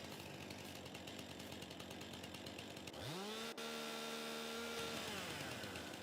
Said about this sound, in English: let's get our hands on a steel chainsaw